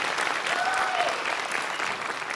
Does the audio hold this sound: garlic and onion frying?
no